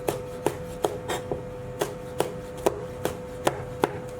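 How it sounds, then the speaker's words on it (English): A kitchen knife finely slices long red chillies on a board, making about a dozen crisp, evenly spaced taps at a steady rhythm, close and alone. "Cut the stems off, and we just want to very finely slice this."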